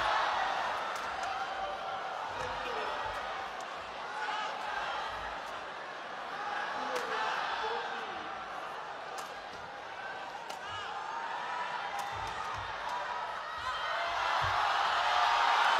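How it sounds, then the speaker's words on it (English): Crowd noise during a long rally in a sports match: a steady, distant roar with a bouncing ball and sharp hits cutting through it, swelling louder toward the end. "Just listen to the crowd."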